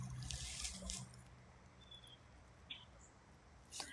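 Brook water trickling outdoors after recent rain, a faint steady low babble with soft broadband wash, a few brief scrapes and rustles on top, no talking.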